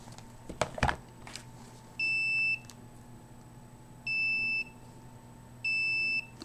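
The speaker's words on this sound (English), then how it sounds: "But you can hear the alarm. The alarm is not as loud because the battery is going." A smoke detector with a failing, low battery sounds three sustained electronic beeps, evenly spaced about two seconds apart, against a quiet room hum, after a brief clatter at the start.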